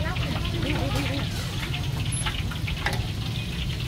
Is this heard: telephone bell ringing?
no